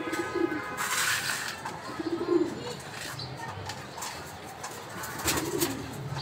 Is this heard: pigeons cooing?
yes